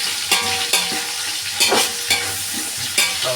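Onions frying for biryani, a loud close sizzle with regular scraping strokes of a spoon stirring through the pan, no voices.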